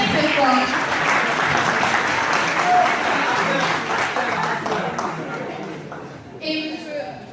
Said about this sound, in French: Les applaudissements, s'il vous plaît, très très fort